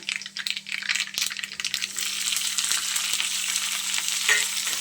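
Green chilies frying in oil on a griddle, a loud close sizzle that starts crackly and settles into a steady continuous hiss, with no talking.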